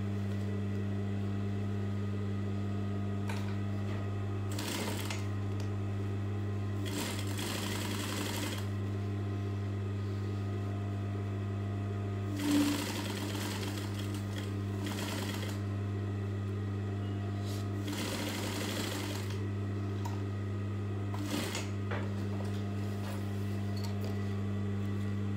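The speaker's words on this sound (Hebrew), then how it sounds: "עכשיו אני הולכת לתפור את הזוג," Sewing machine stitching a boned corset's lining to its upper part, a steady mechanical hum with a strong low drone and brief bursts of faster stitching breaking through, no talk.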